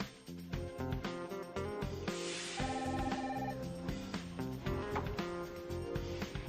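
A telephone at a hotel front desk rings, with a repeated bell-like tone pattern heard over soft background music and no talking.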